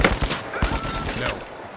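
Sniper gunfire in the video game The Finals rings out as several sharp, close shots among dense, busy game noise, with a rapid cluster early on and further cracks scattered through.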